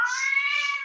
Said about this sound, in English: have to do something about these cats making noise